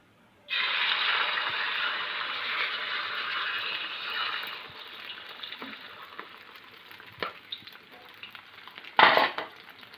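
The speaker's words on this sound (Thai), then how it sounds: "ก็ขออนุญาต ทอดสักครู่ครับผม" A Thai omelette with coriander is poured into hot oil and fries with a loud, steady sizzle. The hiss fades gradually, broken by a few scraping stirs, and a sharp clatter comes near the end.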